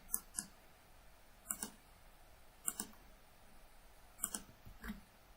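Computer mouse clicks in a quiet room, heard as several sharp, close, faint pairs of double clicks spaced about a second apart.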